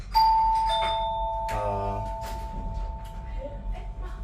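A doorbell chimes once near the start with a sustained ringing tone, then a second electronic chime follows, fading slowly with faint room noise, in Bali, Indonesia.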